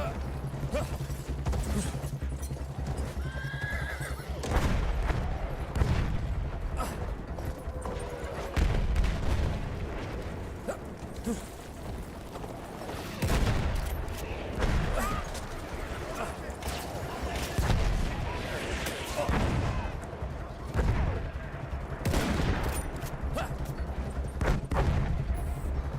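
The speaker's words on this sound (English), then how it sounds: "Artillery already?" Battlefield 1 battlefield combat with repeated booming artillery fire and bursts of gunfire throughout, loud and dense, with voices talking over the din.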